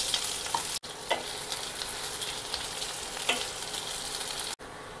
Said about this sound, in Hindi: 1 टीस्पून सरसों डाल दिया मैंने, ये करी पत्ता, और फिर इसमें डाल दिया एक बड़े साइज़ के प्याज को चॉप करके।